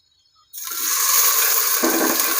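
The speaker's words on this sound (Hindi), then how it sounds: "इस गर्म शुदा ऑयल में थोड़ा सा वाइट प्याज और सब्ज लहसुन डाल देंगे" Loud, steady sizzle of white onion and green garlic dropped into hot oil, a sudden burst of hissing that starts abruptly and holds at full strength without letting up.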